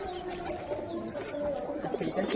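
Madras pigeons coo softly and repeatedly close by, their low murmuring calls running under a person talking.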